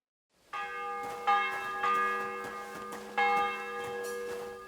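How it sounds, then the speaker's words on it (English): A church bell in Kingdom Come: Deliverance II tolls four times at a slow, even pace, each strike ringing out with a long resonant hum, alone and fairly clear. "The bell's ringing for Hans the 5th time."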